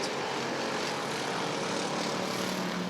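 Race cars lapping in an 8-lap Roadrunner heat race at Rockford Speedway, a steady, loud, continuous engine roar with no gaps, the pack droning past throughout.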